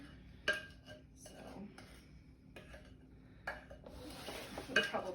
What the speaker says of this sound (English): This is where I get a little aggressive when I'm mixing things.